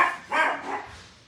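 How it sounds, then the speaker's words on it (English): Dogs in a house give a few close, sharp barks as someone enters. Two or three quick yaps fade into a short trailing whine. "the dogs are barking"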